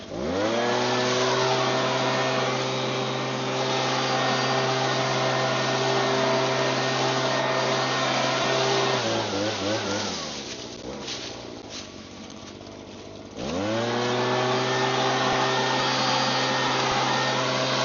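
A brand-new STIHL 86C two-stroke power tool engine runs loud and steady with a buzzing harmonic whine, dropping to a rough idle midway for a few seconds before revving back up to full speed.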